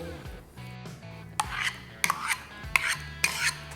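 Chinese cabbage salad with dill and mayonnaise being tossed in a bowl, giving moist scraping and clinking of a utensil against the dish in several soft bursts, close and fairly quiet, with no talking.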